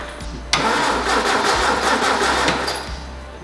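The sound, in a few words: fuel pump running during test on MGB car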